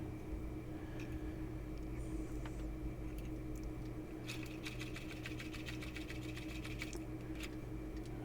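A sewing machine back-stitching a leather knife sheath, running steadily throughout with a constant motor hum and a brief rapid burst of needle clatter partway through.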